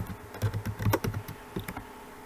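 A computer keyboard types a short phrase into Microsoft Word: a quick, close burst of light key clicks in an uneven rhythm, fairly quiet, with no talking.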